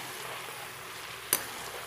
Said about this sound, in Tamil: இங்கே பாருங்கள், இப்போ நம்மளோட நெய் நல்லா கொதிச்சுக்கிட்டு இருக்கு.